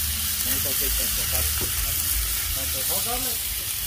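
Mixed meat fries in its own rendered fat on a griddle, a loud, continuous sizzle and hiss while voices talk over it.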